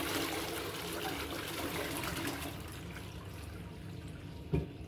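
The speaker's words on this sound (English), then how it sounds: "So we flush our toilet again now." A toilet is flushed after being unblocked, with a steady rush of running and trickling water that continues throughout and a brief knock near the end.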